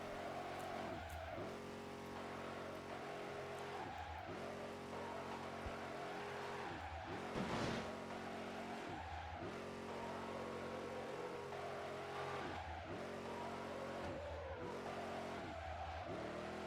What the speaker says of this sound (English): So I have to push the brake and also the handbrake at the same time, and also try to correct the car